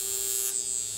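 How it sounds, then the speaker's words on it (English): An argon electrode on a high-frequency device gives off a steady, close electric buzz with a high-pitched whine, continuous and alone. "It does produce the buzzing sound"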